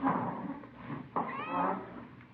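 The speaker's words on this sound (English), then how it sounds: "It's a nice cat you got there." Pet Siamese-type cat in an indoor radio-drama scene meows several times, drawn-out and fairly close, with no speech over it.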